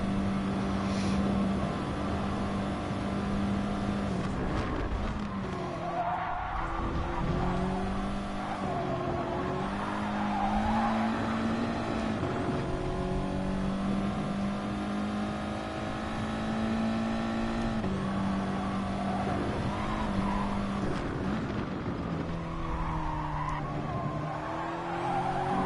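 Race cars in Gran Turismo Sport rev hard with a steady, loud engine drone, pitch rising and falling through gear changes, with tire skids woven through and no talk over it.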